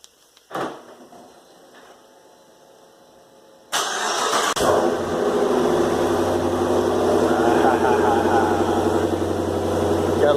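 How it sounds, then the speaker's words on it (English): A car engine cold-starts in a garage after a couple of quiet seconds, catching with a loud burst and settling into a steady, rumbling idle that fills the rest of the time. "Gotta love the garage cold start."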